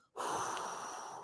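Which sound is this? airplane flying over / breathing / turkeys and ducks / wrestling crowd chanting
breathing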